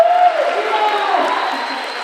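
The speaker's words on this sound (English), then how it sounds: "Would you all please give him a round of applause?" A crowd at an eighth grade awards ceremony gives a round of applause for a student, a diffuse, moderately loud clapping and murmur that fades slightly over two seconds, with voices mixed in.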